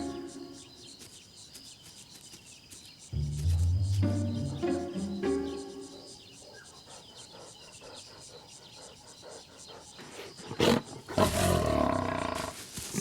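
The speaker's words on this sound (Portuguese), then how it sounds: "Seu rugido é uma mensagem clara o suficiente: recue." A big cat roars in the African wild, a deep rumbling roar rising and repeating in throaty bursts, with insects and birds faint in the background and a narrator talking over parts of it.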